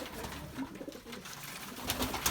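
Breeding pigeons coo softly and continuously close by, low throaty rolling calls overlapping, with some faint rustling in the background.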